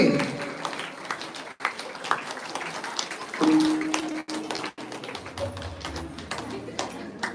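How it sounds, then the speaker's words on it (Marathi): An audience at a kirtan claps along in a steady patter that swells and fades, with brief pauses and a few voices and tones mixed in. "जोरात होऊ द्या टाळ्या"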